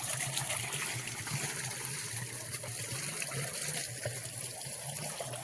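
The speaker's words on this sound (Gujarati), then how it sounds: "સુપર પાણી આવે છે." Irrigation water flows steadily on a farm field, a continuous rushing and trickling stream heard close and alone.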